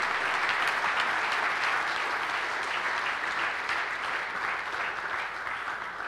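Sustained, dense applause from a crowd at a sports ceremony honouring a retiring hammer thrower, loud and even for about six seconds, tapering slightly at the end.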